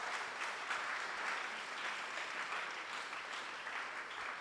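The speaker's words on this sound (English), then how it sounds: "let us give another round of applause" Sustained applause from a lecture audience, dense steady clapping at moderate, distant level with no voices over it.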